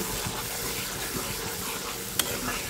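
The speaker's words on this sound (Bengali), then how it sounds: "এখন আমি এই মশলাটা ঢেলে দিচ্ছি" Spice paste poured into a hot pan while cooking small boal river fish, a continuous close sizzle and bubbling hiss with faint stirring and one brief clink near the end.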